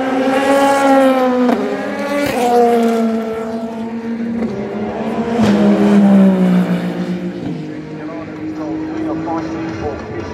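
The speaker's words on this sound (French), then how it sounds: "Et la Porsche vient de passer, qui a passé la Ferrari." A Porsche race car passes at the 24 Hours of Le Mans in 2025. Loud engine tones sweep and fall in pitch as it goes by, with voices talking over the noise.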